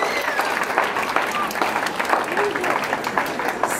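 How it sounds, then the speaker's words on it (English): Wedding guests at a ceremony applauding, a dense continuous burst of many hands clapping close by, with voices mixed into the crowd noise. "let us clap again one more time for this beautiful moment"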